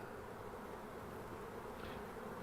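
A dense, steady buzzing of many honey bees, close and continuous, with no pauses.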